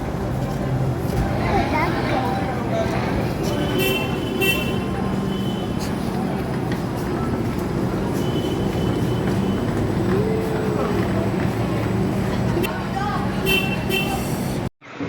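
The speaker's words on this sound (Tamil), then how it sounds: "ட்ரெயின் வந்து மூவ் ஆகுது." A train rumbles steadily along for the whole stretch on a trip to Palani temple, a continuous low rolling noise with rattles and occasional faint higher tones.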